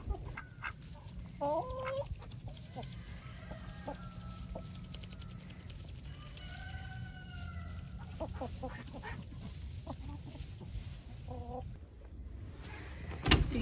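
Several chickens cluck softly and murmur inside a straw-filled winter coop, with scattered close calls over a quiet background hum and light rustling near the end.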